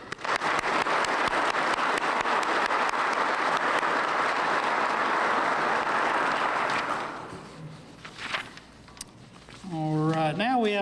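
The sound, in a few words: applause at a law enforcement training graduation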